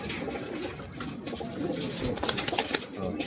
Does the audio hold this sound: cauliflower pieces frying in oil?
no